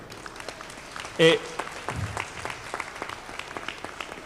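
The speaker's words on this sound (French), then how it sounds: "On peut l'applaudir" Scattered light applause from a convention audience at a live orchestra show, soft and patchy beneath a brief voice on stage.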